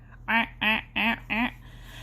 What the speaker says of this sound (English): He heard more quacking.